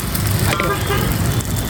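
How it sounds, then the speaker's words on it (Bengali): Road traffic passes right beside a house, with a continuous roar of vehicles and a short horn toot near the middle. "আমার একদমই রাস্তার ধারে যেহেতু বাড়ি, আর সবসময়ের জন্য প্যাপু প্যাপু শব্দ হতেই থাকে"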